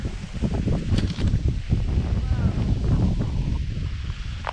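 Strong gusts of wind buffet the microphone on a hiking trail, a loud, rumbling roar with fluctuating bursts, and faint voices partly buried beneath it.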